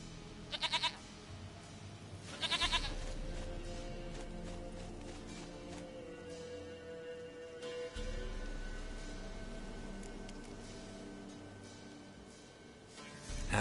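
Goat bleating in The Witcher 3: Wild Hunt, several short quavering bleats, the first two close together near the start, then game ambience with low music and no speech.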